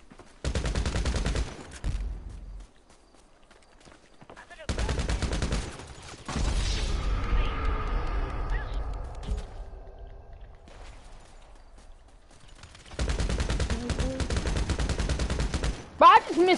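Gunfire in a video game shootout comes in three long, loud bursts of rapid automatic fire separated by quieter gaps, with a voice heard briefly in between.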